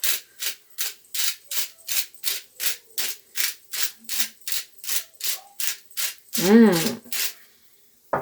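Italian herb seasoning is ground in a hand grinder: a steady run of about fifteen evenly spaced, close, scratchy grinding turns, followed by a brief spoken remark.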